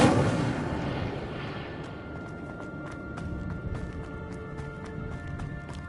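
A fiery Incendio spell cast in Hogwarts Legacy: a loud whooshing burst at the start that fades into a roaring rumble, followed by a series of sharp crackling ticks and pops.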